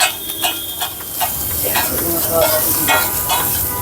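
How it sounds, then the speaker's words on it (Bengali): Fried rice with spices is stir-fried at a street food stall in Kolkata, with a continuous loud sizzle, repeated metal scraping and tossing strokes in the pan, and faint background chatter. "মশলা টশলা দিয়ে হয়ে যাচ্ছে ফ্রাইড রাইস"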